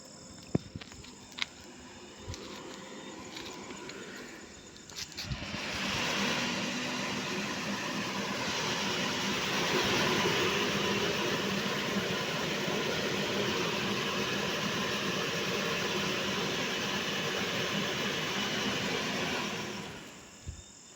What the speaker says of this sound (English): You can see the fan is connected. Can you check the fan?